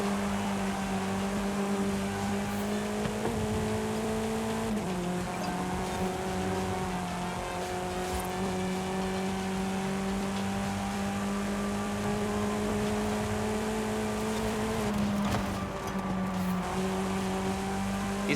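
A car driven in Forza Horizon 5 drones with a steady engine note, its pitch shifting slightly at a few gear changes, loud and continuous throughout with no talking.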